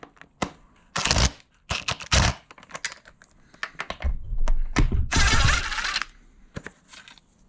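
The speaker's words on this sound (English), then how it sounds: "We want to remove this side cover on the airbox. it takes a 6mm socket to remove it." Ratcheting socket clicks and plastic handling sounds come from a 6mm socket loosening the airbox side cover on a KTM 990 Adventure motorcycle. The clicks arrive in irregular bursts, close up and fairly loud, with no talking.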